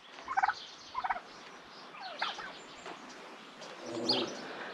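Turkeys gobble in short rapid bursts, two quick rattling calls followed by softer clucks and a fainter gobble, fairly close in an open outdoor space.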